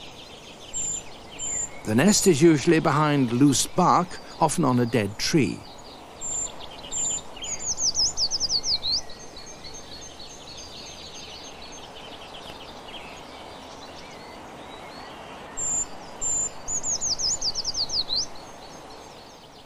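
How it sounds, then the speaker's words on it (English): A treecreeper sings a thin, high-pitched descending song from a woodland garden. Several short phrases repeat at intervals, clear but modest in level, after a narrator speaks at the start. "The high-pitched song of the tree creeper may be heard from February onwards."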